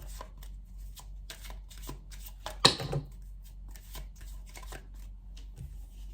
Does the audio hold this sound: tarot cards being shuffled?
yes